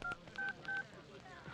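A telephone keypad sends DTMF dialing tones as a number is entered for a call, three short evenly spaced beeps, clear but fairly quiet, with a faint voice murmuring in the background.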